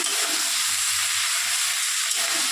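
Spice paste with dried red chilli paste is stirred in a hot pan, a loud continuous sizzle and hiss with faint scraping strokes of the spoon underneath.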